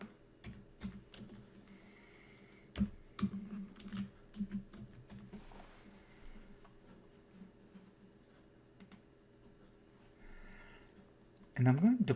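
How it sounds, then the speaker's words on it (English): Scattered keystrokes click on a computer keyboard at an irregular pace, close and fairly quiet, with pauses between bursts of typing and a brief louder thump near the end. "I'm having trouble with the keyboard this morning."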